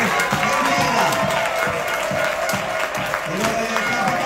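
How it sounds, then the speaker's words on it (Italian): A crowd applauds at the Virtus Entella under-16 football championship award ceremony, with steady clapping and cheering filling the whole stretch while an announcer talks over it. "Ancora un applauso in attesa che si completa la premiazione per la Virtus Entella."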